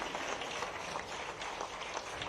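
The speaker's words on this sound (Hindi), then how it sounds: "जोरदार तालियां की" Audience applause at a ceremony at the Chief Minister's residence honouring a women's cricket world-champion player, a steady wash of many hands clapping, moderately distant and continuous.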